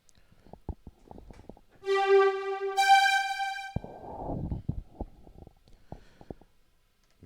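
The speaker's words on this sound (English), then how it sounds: "And then I'm gonna find the string sound." String patch on a Proteus 2000 synth module: a sustained synth chord that swells for about two seconds, with soft clicks and rustling before and after it.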